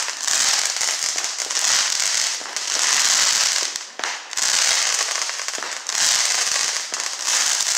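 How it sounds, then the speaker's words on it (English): Fourth of July fireworks bursting in long, dense crackling volleys, loud and close, with a brief lull in the middle before the rapid popping resumes. "It's called a firework."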